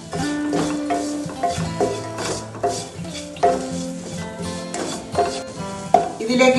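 A spoon stirs chicken with ground pepper and turmeric powder in a pan, making steady scraping and clinking sounds over a soft sizzle, with no talking.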